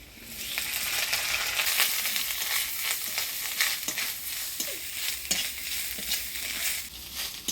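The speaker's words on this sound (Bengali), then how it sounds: "নারকেল কোড়াটা ফোড়ন তেলে ভালো করে ভাজা ভাজা করে নিলাম" Grated coconut fries in hot tempering oil with ginger, dried chillies, bay leaf and whole spices, a bright steady sizzle broken by scraping stirs, close and alone.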